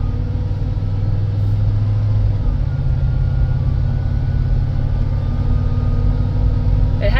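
A 2003 Ford Explorer SUV is driving, heard from inside the cabin as a steady, loud, low engine and road rumble that continues without a break.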